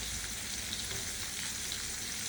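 Bitter gourd, about half fried, sizzles in a flat pan with a continuous, even hiss, close and unbroken, with no voices.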